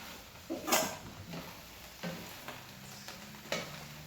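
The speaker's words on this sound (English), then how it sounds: "Next, we're going to add our pumpkin." Pumpkin tipped into a hot pan for a pumpkin fennel chowder, giving a few sharp clattering hits and scrapes over a quiet steady sizzle, close and soft.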